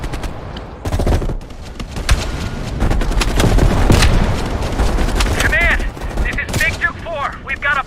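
Rapid bursts of gunfire and heavy booms in Call of Duty Black Ops Cold War, sniper and automatic weapons cracking loudly and repeatedly, with a narrating voice over the battle noise.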